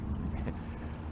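Strong wind rushes over a kayak on the marsh, a steady low roar of buffeting with faint water sounds underneath, brief and unbroken, no talking.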